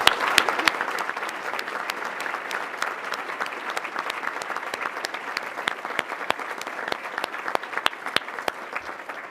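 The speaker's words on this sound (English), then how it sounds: "And I think we should give them a round of applause." Sustained audience applause for students and apprentices at an event in Ontario, dense steady clapping from a crowd throughout with no break, moderately loud and even.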